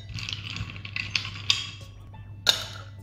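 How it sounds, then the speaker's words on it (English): Ice cubes go into a glass of muddled strawberry, lemon and mint mocktail, making bright clinking taps and rattles scattered over three seconds with one sharp clink near the end, close and without speech. "Now we'll add ice cubes to it."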